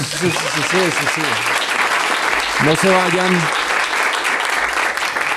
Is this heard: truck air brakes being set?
no